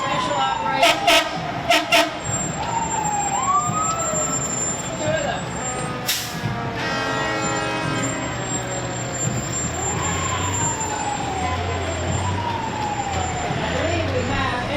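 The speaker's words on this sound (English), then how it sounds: "We have a hazmat operations truck, special operations." Fire trucks, including a hazmat special operations truck and Newark ladder company rigs, rumble past in a St. Patrick's Day parade in Newark with sweeping sirens and repeated horn blasts, loud and close, while an announcer talks over them.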